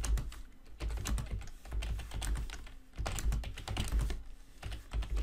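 Fingers typing on a computer keyboard produce a close, steady run of clicking keystrokes in uneven bursts.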